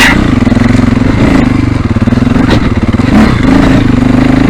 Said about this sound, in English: that's why you need to be in that high gear, using that lovely 4-stroke torque